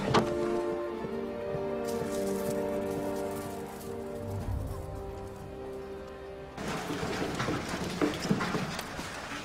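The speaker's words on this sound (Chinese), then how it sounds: "小满，下雨怎么不打伞啊？" Rain pours in a 1940s-era Chinese spy drama scene, rising to a dense, loud hiss in the last few seconds after a stretch of softer sound with steady tones.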